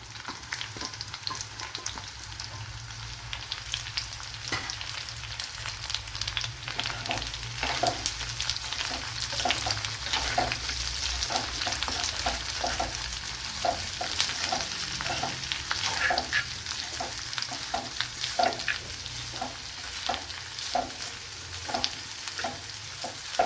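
Chopped onions, two medium ones, go into a pan of garlic already browned in oil, sizzling steadily while being stirred with regular scraping strokes throughout, close and continuous without talk.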